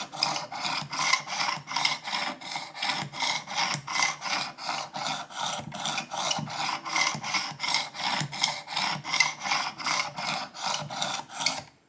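A single-bevel broadhead, rusty before sharpening, is drawn in repeated strokes across the abrasive of a Work Sharp Precision Elite sharpener, giving a steady rhythmic rasping that continues close and even throughout, with no voices.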